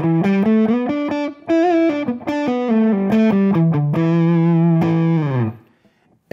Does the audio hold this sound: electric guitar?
yes